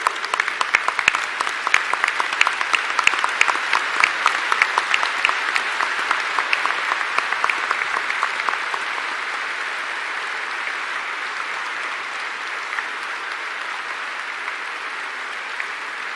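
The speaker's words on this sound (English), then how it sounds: "Let us give him a huge round of applause." A large audience at a spirituality festival applauds the departing Vice President, with loud, crisp clapping at first that gradually thins and softens into a steadier, quieter patter over about sixteen seconds.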